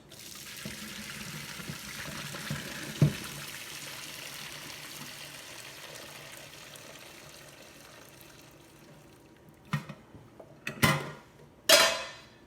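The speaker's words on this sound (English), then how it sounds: "We drain the water out." Boiling water is poured off a pot of blanched green beans, a steady rushing pour that ends in a few sharp clanks and splashes of the pot near the close.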